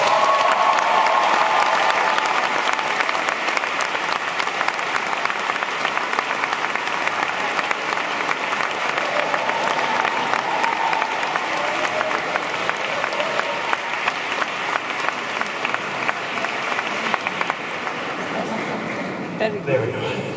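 Sustained audience applause fills a graduation ceremony hall, steady and dense throughout, with some crowd murmur mixed in and tapering slightly near the end.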